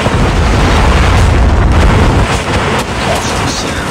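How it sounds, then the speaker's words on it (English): Predator missile strike exploding in a Call of Duty Mobile 10v10 match, a loud, close, sustained rumbling blast that fills the clip, with faint battle noise trailing off near the end. "Friendly Predator missile inbound."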